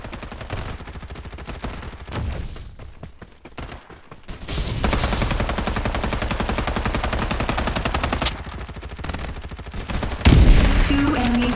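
Machine gun fire in the shooter game Farlight 84, rapid bursts rattling close and loud, pausing briefly before a long sustained stream of shots, then a heavy thump near the end.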